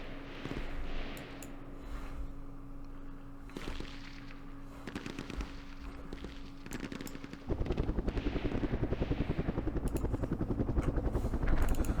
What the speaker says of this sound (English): And I think we have more gunships.